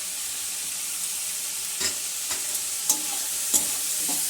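Garlic, ginger and chilli frying in a pan with a little vinegar, giving a steady bed of sizzle broken by a few sharp clicks as they are stirred, close and alone with no talk.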